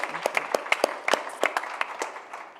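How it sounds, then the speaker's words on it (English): Audience applause for a women's business panel's speakers at a breakaway session, a brief, sparse round of separate claps from a modest crowd, fairly close and without talk. "A round of applause for them"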